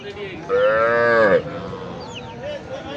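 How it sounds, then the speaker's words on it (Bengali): Small Sahiwal bull calves at a cattle sale in Cumilla, one giving a loud, drawn-out moo near the start, followed by fainter bovine calls and background murmur. "দেখছেন যে এই ছোট ছোট সব ছোট ছোট সব বাছুর"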